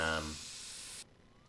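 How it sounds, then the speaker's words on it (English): A can of mosquito spray in My Summer Car releases one hissing burst of about a second that cuts off abruptly, starting over a brief fading tone. "Let's give this place a good spray."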